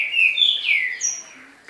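A rufous-collared sparrow (tico-tico) sings a short, clear phrase of high whistled notes that shift in pitch, close and fairly loud with no talk.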